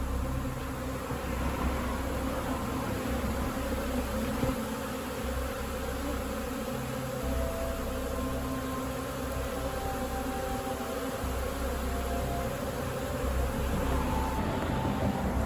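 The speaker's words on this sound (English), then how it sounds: "First swarm for me of the season." A honeybee swarm drones in a dense, continuous buzz, steady and close throughout the outdoor scene early in swarm season.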